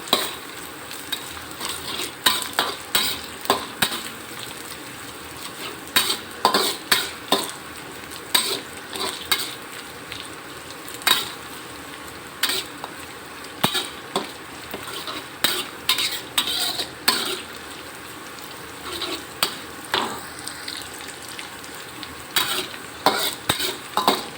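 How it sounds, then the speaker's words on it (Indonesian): Rice frying until crispy in a pan with salted anchovies, a continuous sizzle broken by frequent sharp scrapes and clinks of a utensil stirring against the metal, close and fairly loud with no talk. "Nasinya digoreng sampai garing ya, digoreng sampai garing."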